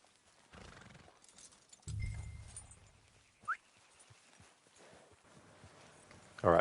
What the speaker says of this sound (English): it says we need to mount our horse